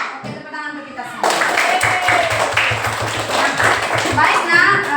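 Sustained applause from children in a classroom, a dense patter of close hand claps continuing for several seconds, with a voice talking over the start.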